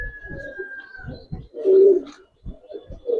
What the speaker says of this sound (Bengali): এগুলো উড়ানোর জন্য খুবই ভালো কবুতর হবে